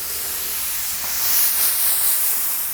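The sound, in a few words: spraying activator on hydrographic film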